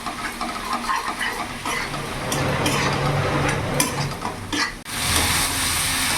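Spice paste (masala) with a little sugar being stirred and fried in a pan until the oil separates: a steady, loud sizzle with repeated scraping and clinks of a utensil against the pan, close up.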